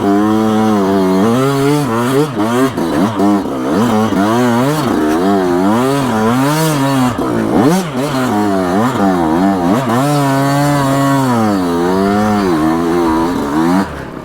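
A Yamaha YZ125X two-stroke dirt bike in first gear, ridden close with the throttle constantly rising and falling in quick revving surges, loud and buzzy without a break.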